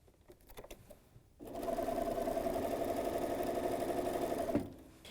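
Sewing machine running steadily as it stitches fabric with a quarter-inch presser foot, a continuous close mechanical whir lasting several seconds after brief quieter handling sounds, then stopping.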